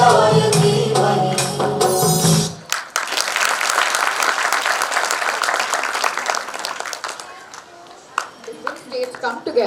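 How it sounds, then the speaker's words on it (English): Music with a steady beat gives way to a loud, sustained wash of crowd applause and clapping that carries on to the end, at a preschool annual function. "I urge you all to keep clapping and to keep applauding them"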